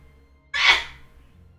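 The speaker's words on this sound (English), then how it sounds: "my wife is sneezing at a decibel level that I cannot ignore" A woman sneezes once, loud and sharp, then the room goes quiet.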